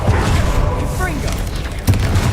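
A Confringo blasting curse goes off in the Hogwarts Legacy video game, a loud booming burst layered over continuous game action, with a second sharp impact near the end and a voice speaking around it.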